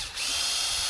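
Close, loud whine of a power drill with a 7/32 bit boring into a recycled-material landscape border piece, a steady high-pitched drone that holds constant for about a second with no talking.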